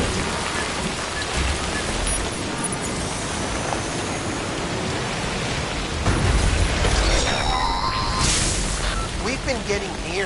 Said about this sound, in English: We've been getting near constant timefall in this region for a while now.